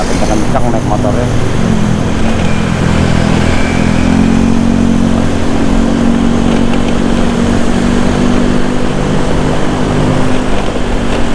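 Steady drone of several motorbike engines passing on a busy street, continuous and loud, with voices talking over the traffic.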